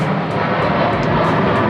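A fixed-wing airplane passes overhead on a hot afternoon, its broad steady engine roar filling the scene throughout at moderate loudness.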